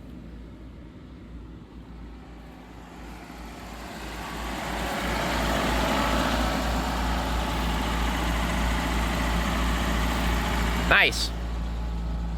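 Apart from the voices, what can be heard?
1984 Dodge Mini Ram engine idling with heater running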